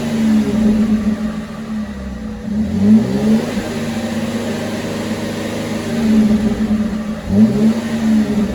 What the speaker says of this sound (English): I'm going to go ahead and rev the car as well